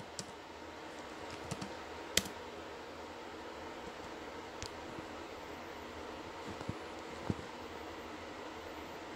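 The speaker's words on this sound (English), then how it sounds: "Let me see if I can type it in." Keystrokes on a computer keyboard, a few sharp clicks scattered over a steady background hiss, faint and close, with no talking.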